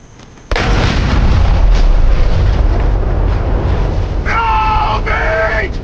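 A hand grenade blows up a truck loaded with weapons in a film scene. A sudden loud blast hits after half a second, then a long roaring rumble carries on, and sharp higher tones break through near the end.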